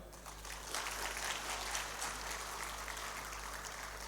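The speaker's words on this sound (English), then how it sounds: "please give a big applause to yourself." Applause from an audience at a Huawei ICT 2024 regional final event, a steady broad wash of clapping sustained at even loudness throughout.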